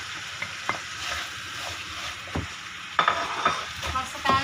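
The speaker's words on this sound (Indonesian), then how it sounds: "Daging tadi saya rebus, kemudian kita kasih bumbu titik-titik dan goreng kering" Boiled beef coated in spice paste frying dry in a pan for sambal dendeng, a close crackling sizzle broken by the scrape and clatter of stirring, the strokes growing busier and louder toward the end.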